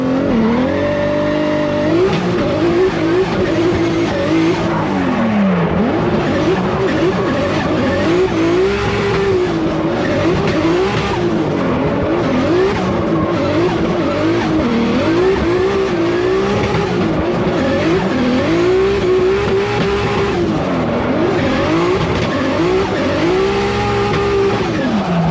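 A Formula Drift car with a 2JZ engine held wide open while drifting, engine roaring loud and steady with pitch swinging as revs rise and fall, tires squealing under it throughout, continuous with no talk.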